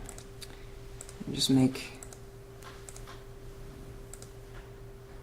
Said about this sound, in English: hit the L key again on the keyboard